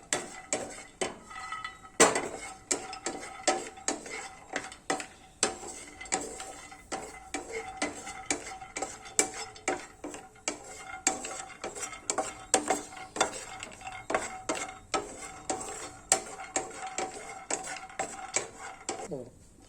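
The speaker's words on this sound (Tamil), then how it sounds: "ஜஸ்ட் அந்த பேன் ஹீட்ல வறுத்தா போறோம்." Almonds and cashews dry-roasting in a hot pan, a long run of rhythmic scraping and rattling as the nuts are stirred, fairly quiet and close.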